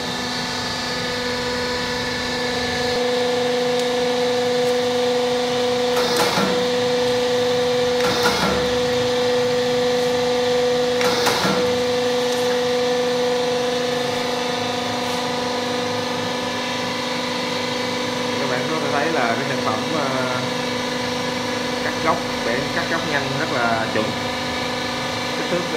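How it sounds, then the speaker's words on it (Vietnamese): A Y80 two-cylinder hydraulic punching press runs with a steady, tonal motor-and-pump hum, punctuated by a few sharp strokes near the middle and some fluttering mechanical sounds toward the end. "Sau đây tôi sẽ vận hành máy cho các bạn xem."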